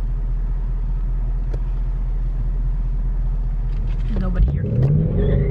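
A Ford Mustang GT sits rumbling low before its engine swells into a rising full-throttle roar near the end, with a voice speaking over the car.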